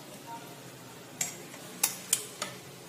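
A spoon scrapes and clinks in a pan as coarsely ground dal is stirred into hot oil with asafoetida, for Nasirabad-style kachora filling; four sharp metallic clicks sound over a low background hiss.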